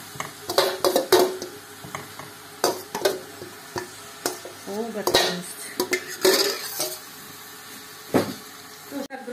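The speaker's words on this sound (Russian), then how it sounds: "Теперь обжариваем в этом же морковь." Carrots frying in a skillet for a Soviet-style marinated fish recipe, with repeated sharp clinks and scrapes of a utensil stirring against the pan over a faint sizzle, close up, and a brief spoken word.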